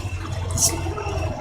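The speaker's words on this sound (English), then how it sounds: "that noise you hear there is the motor fighting me." A force feedback steering wheel's motor hums steadily, low and mechanical with a rough, grinding texture, close by, as it resists the wheel being turned, with a brief higher hiss partway through.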